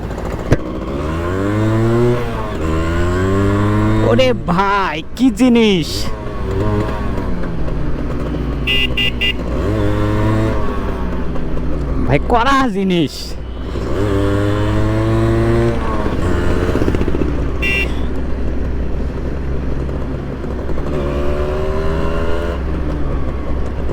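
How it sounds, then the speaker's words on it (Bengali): A Honda CDI 100 motorcycle engine revs hard in several loud, rising and falling bursts, its buzzing pitch climbing with each twist of the throttle over a steady idle, while someone speaks excitedly in between. "দেখি একটু টান দেই আমি বাইকটার কন্ডিশন কেমন।"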